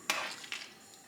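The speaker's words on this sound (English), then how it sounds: "we add that and we stir it up" Rice pudding (arroz con leche) stirred in a pot, with two brief scraping swirls of a spoon against the pot wall and a faint sizzle in between, close and quiet, no talking.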